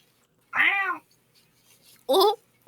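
A person imitates a cat with two short, whiny meows separated by a pause, the first longer and rising-falling, the second brief and bright, close to the microphone.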